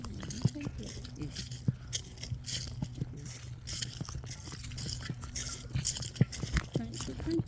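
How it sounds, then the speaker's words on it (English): Dry fall leaves crunch underfoot on a nature walk, irregular crackling steps at close range, heard beneath a person's quiet talking. "Crunchy leaves."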